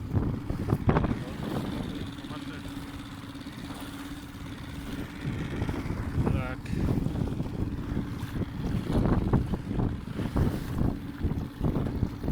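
Strong stormy wind buffets the microphone in heavy, gusting rumbles on a fishing boat near Repino, with waves slapping against the hull; brief faint voices come through now and then.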